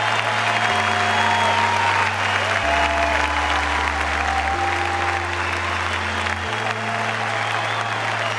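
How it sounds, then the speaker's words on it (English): Tennis crowd at Roland-Garros giving a standing ovation after the 2012 men's quarter-final between Djokovic and Tsonga, dense sustained applause filling the whole stretch at steady loudness, with low tones and faint voices underneath. "Crowd are giving them a standing ovation."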